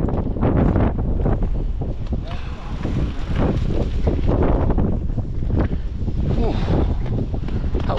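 Strong, steady wind buffets the microphone during a mountain bike ride in the Yorkshire Dales, a loud continuous roar with gusting surges that covers everything else.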